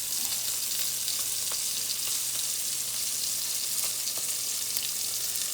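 Jumbo shrimp and scallops searing in a hot pan give a dense, continuous hiss and crackle that holds steady and close, with a few sharper pops and no voices.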